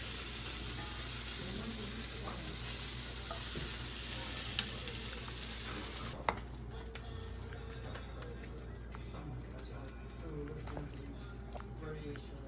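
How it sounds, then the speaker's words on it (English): Cooked meat and its juices tip into a Guinness stew pot on a switched-off stove and get stirred, giving a steady wet sizzle and scraping that eases after a sharp clunk midway. "now that I've got my meat done, I'm gonna add it to the pot"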